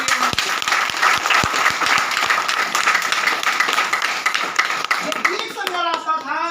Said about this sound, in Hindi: एक जोरदार ताली रिएक्शन